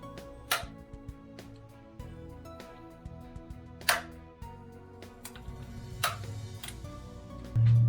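Sharp, isolated clicks of a torque wrench ring out on the oil filter housing of a BMW 335i with the N54 engine, three louder snaps spaced a couple of seconds apart over faint ticking and low hum.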